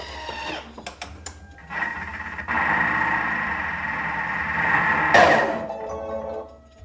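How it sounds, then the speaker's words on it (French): Blender puréeing a soup of hrira with meatballs: scattered clatter and bumps, then a sustained whirring motor that climbs in intensity and peaks in a loud surge before cutting off, close up with no speech. "on va la mixer assez rapidement et ça éclabousse parfois"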